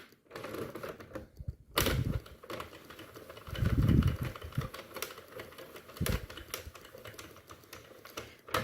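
A Sentro knitting machine is cranked by hand, producing a close series of irregular plastic clicks and clacks with a few heavier thumps as the mechanism turns.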